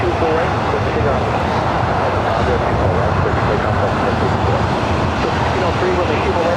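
A Delta Airlines Airbus A319 jet taking off from runway 24 right at LAX airport, a loud continuous broadband engine roar that holds steady throughout.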